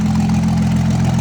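A 2006 dually truck engine idles with a steady, loud low rumble and a faint knock throughout, with no voices.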